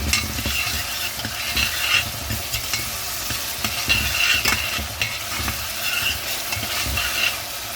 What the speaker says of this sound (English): We're going to add in our ginger and garlic. We're going to stir that in.